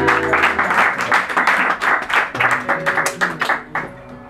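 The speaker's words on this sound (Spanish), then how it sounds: "Quiero pedir un fuerte aplauso" An audience at a peña folk music gathering breaks into loud, rhythmic applause, a dense run of close hand claps that thins out toward the end.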